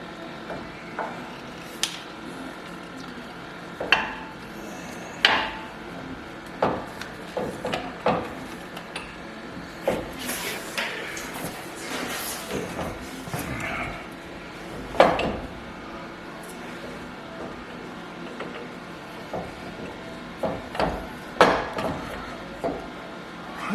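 Metal clunks, scrapes and knocks of an axle shaft being fitted into a 2021 Jeep Wrangler JLUR during ball joint work, scattered irregular impacts at close range with no talking.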